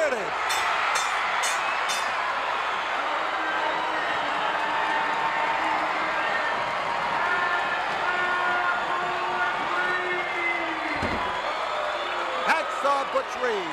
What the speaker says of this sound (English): this crowd in the Sam Houston Coliseum, the home of Houston wrestling, the home of wrestling in Houston, gives him an ovation